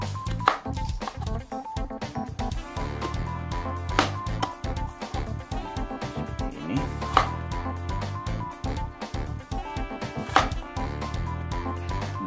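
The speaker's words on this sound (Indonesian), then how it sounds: "kentangnya dipotong sesuai dengan selera Anda ya" Potatoes being chopped into cubes for sambal goreng kentang, rapid steady knife strikes on a board throughout, close and fairly loud, layered over a constant background of music.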